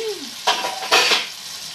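Gongura leaves cooking with tamarind juice in a pan, giving a soft sizzle with two brief scraping stirs of a spoon, close and short.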